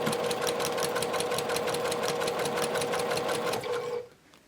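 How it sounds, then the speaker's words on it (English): Domestic sewing machine running steadily as it stitches a quarter-inch seam around the edge of a fabric tie-back face mask, a loud continuous motor whir with rapid needle ticking that stops abruptly near the end. "Use a 1/4 inch seam allowance to stitch around the edge and make sure you back stitch."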